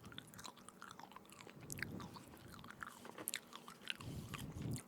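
Close, crunchy biting and chewing of dry Korean barbecue beef jerky strips made from marinated, lightly smoked rump steak, with irregular crisp crackles and soft mouth sounds throughout and no talking.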